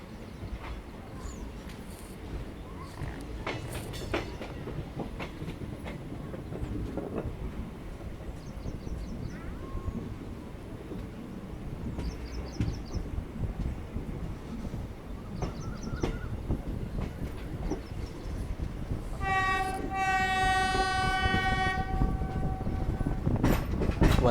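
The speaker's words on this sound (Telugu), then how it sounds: "మన ట్రైన్ అయితే డిపార్ట్ అయింది మిర్యాలగూడ నుంచి" The 12747 Palnadu SF Express, on its Guntur to Vikarabad run, pulls out of Miryalaguda with a moderately distant running clatter that builds steadily, then a long, loud horn blast sounds near the end.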